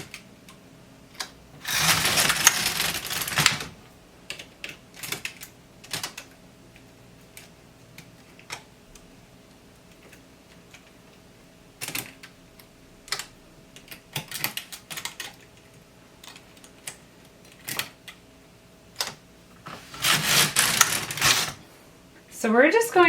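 LK150 knitting machine carriage knitting a bra top, sliding across with a loud rasping clatter in bursts a couple of seconds long near the start and end, separated by lighter clicks and ticks from handling the needles.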